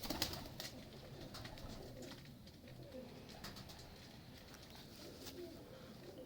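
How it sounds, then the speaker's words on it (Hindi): Original Salare Mistri pigeons coo softly in a low, murmuring chorus, the sound faint and continuous with light rustling and occasional sharper bird noises. "ये ओरिजिनल सलारे मिस्त्रियों वाले माशाल्लाह कबूतर हैं"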